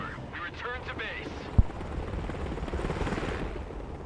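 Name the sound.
Black Hawk helicopter in video game Broken Arrow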